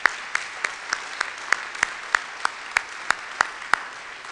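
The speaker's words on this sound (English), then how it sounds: "Let's give him one more round of applause." Clapping at a faculty awards ceremony comes as a slow, evenly spaced series of about a dozen sharp, distinct claps over a quiet background, more like one pair of hands than a full audience.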